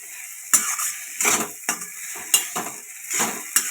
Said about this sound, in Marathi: आता आपण हे एकत्र मिक्स करून घेऊया